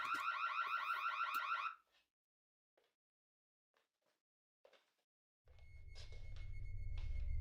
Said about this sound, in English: that's your security alarm going off.